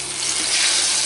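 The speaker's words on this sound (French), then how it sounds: "Une fois que l'huile est assez chaude, je vais pouvoir mettre l'apple pie dedans" A homemade apple pie fries in hot oil with a loud, continuous, close sizzle and crackle throughout the short moment.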